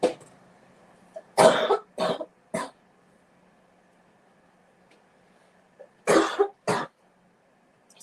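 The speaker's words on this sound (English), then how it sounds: "Sorry, I'm just coughing." A person coughs in a quiet room: a hard cluster of three coughs, a pause of several seconds, then two more, each short and close.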